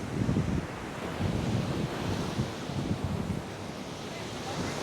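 Strong ocean waves roll and crash at Batubulong beach in Canggu, Bali, a continuous loud surf roar mixed with wind buffeting the microphone, with no voices.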